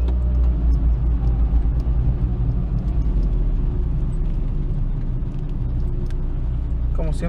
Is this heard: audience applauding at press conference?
no